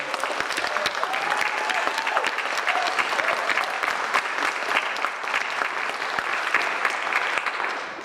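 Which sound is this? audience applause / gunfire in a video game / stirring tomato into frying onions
audience applause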